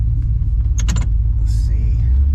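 Deep, steady low rumble of a carbureted LS engine in an OBS truck idling close by, with a few brief metallic clicks and a short hiss over it.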